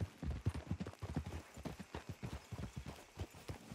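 Horse hooves clip-clop in a rapid, even rhythm on a road in a Western video game, close and fairly loud, a steady trotting pattern with no talk over it.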